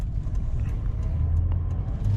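Steady low engine rumble from a 2010 Toyota Landcruiser GXL 200 with a twin turbo V8 while driving, heard from inside the cabin as a continuous drone with road noise and no break.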